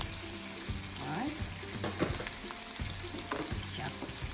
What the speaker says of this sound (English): now I think the onion is already translucent, so we will put the chopped onion